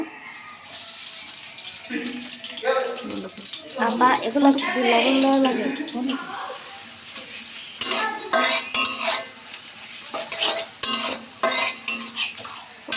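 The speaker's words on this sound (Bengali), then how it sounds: "চাউমিন রান্না করবো এই জন্য কড়াইতে তেল দিয়ে দিছি এখন আমি পেঁয়াজ দিয়ে দিব" Onions hit hot oil in a wok for chow mein, bursting into a loud sizzle with stirring and scraping, then sharp intermittent clatters and splashes near the end.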